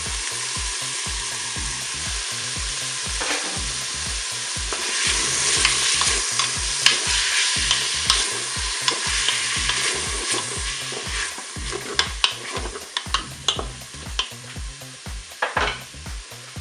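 Onions frying in a Cookeo multicooker for a goulash, with a steady hiss and sizzle and a repeated rhythmic scrape of stirring against the pot. Scattered sharper clicks and clatters come in toward the end.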